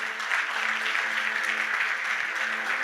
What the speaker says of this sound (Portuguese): Você dá outra salva de palmas para Jesus?